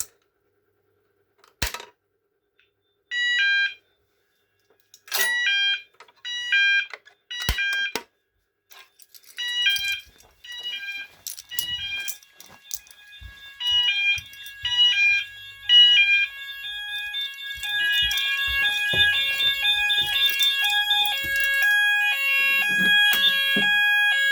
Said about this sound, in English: the sounders are on code 3 alternating